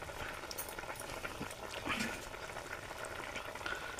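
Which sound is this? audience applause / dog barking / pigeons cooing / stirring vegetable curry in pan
stirring vegetable curry in pan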